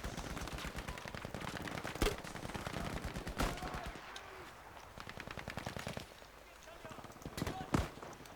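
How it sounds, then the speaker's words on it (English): Japanese Arisaka bolt-action rifle fired in Battlefield V, a few loud sharp shots standing out against constant gameplay gunfire and battle noise, with a voice talking over it. "My trusty old Japanese Arisaka rifle."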